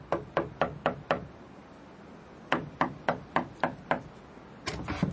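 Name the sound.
knocking on a cottage door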